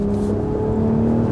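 A BMW Z4's engine hums steadily while driving, a smooth close tonal drone with a slight rise in pitch and no talk over it.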